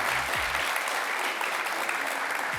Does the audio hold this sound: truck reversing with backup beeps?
no